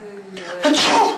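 A single sneeze bursts out near the middle, closely mixed with a man's spoken question before and around it.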